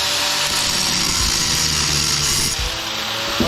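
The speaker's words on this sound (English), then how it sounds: "What if we took the grinder and we just ground that off?" An angle grinder cuts away a small metal tab on an electric motor being scrapped, giving a loud, steady abrasive whine that runs almost continuously before dipping briefly near the end.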